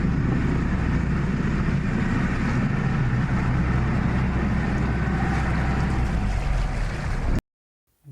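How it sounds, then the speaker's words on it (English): A river tugboat's engine drones steadily on the water, a loud broadband rumble with a strong low throb that runs for about seven seconds before cutting off abruptly. "River tugboats."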